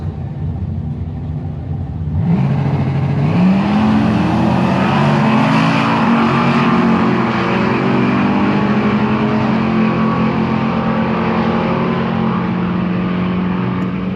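An orange Chevelle and an old Silverado truck launch on a drag strip, engines roaring up from a rumble into a loud sustained wail with rising gear pitch, close and powerful, no voices.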